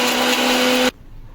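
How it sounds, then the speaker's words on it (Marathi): A kitchen mixer grinder whirs loudly, grinding ginger, garlic and water for spicy mutton sukha, with a steady high-pitched motor hum that cuts off abruptly near the end, leaving quiet room tone. "थोडंसं पाणी घालूया आणि मिक्सरला लावून घेऊया।"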